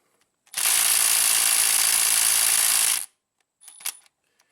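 Ratchet loosening 6mm hex bolts on a plastic lower intake manifold of a Hyundai GDI engine, a close, loud continuous buzzing clicking run of about two and a half seconds, followed by a brief softer metallic clatter.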